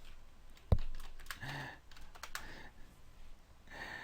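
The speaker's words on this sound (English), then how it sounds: "while he is typing" Irregular clicks of someone typing on a computer keyboard, soft and close, with one sharp knock early and a faint breath-like hiss.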